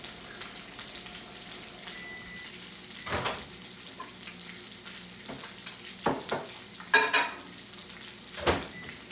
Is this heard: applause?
no